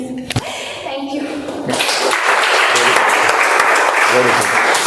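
An audience at a speaking club meeting bursts into loud, sustained clapping that swells and holds after a brief spoken moment at the start.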